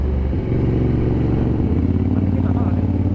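A Ducati motorcycle engine idles with a steady low throb, close by and fairly loud, with a slight rise in pitch partway through.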